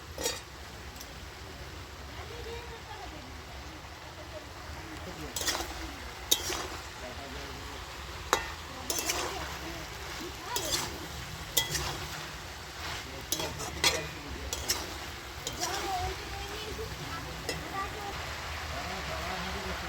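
A vegetarian papaya and potato curry is stirred in a pan, with scattered metallic clinks and scrapes of a spoon against the cookware over a faint, steady background hum.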